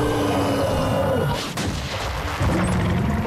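Gunfire and booming explosions from the video game Gears of War 4, a dense barrage of loud blasts and rumbling impacts, with a sharp crack near the middle.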